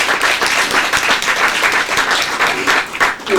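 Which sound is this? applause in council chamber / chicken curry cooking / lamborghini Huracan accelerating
applause in council chamber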